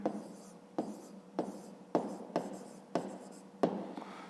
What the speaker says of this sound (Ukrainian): Все пишемо аналогічно, загальна вартість.